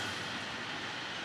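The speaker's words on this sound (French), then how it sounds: "Une voie sur laquelle circulent des trains de voyageurs ainsi que jour et nuit des trains de marchandises." A train runs along the railway line next to a house, heard as a constant rushing rumble at moderate loudness, steady and uninterrupted with no talking.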